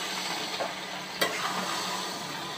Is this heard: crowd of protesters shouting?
no